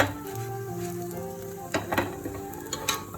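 A vegetable okonomiyaki pancake cooks in a pan over a small, slow flame, giving a soft, steady sizzle with a low hum beneath and a few light clinks and taps near the end.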